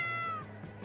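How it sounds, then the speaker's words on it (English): A single slow, drawn-out meow from an orange cat, the tone gliding gently downward before fading, close and fairly quiet. "heard a slow, unbothered meow come back from it"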